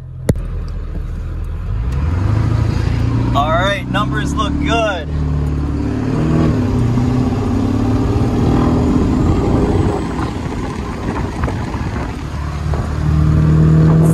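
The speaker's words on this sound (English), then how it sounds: "So let's drive my truck, you guys." An OBS Ford F250 with a 7.3L Powerstroke diesel engine and a fault, driving with a deep, loud rumble that swells as it accelerates, with someone talking briefly over it near the start.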